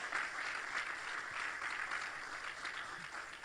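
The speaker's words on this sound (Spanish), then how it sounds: "que le dé un aplauso fuerte al Señor" A church congregation claps together in a fairly quiet, even wash of applause that holds steady for a few seconds without voices rising above it.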